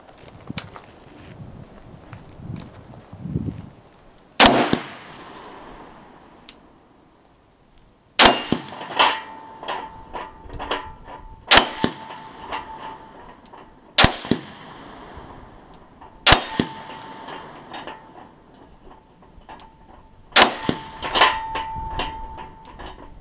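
Sig Sauer 716 DMR rifle fired in slow succession, about seven loud sharp shots with bright metallic rings from struck steel targets hanging after each report, spaced a few seconds apart outdoors.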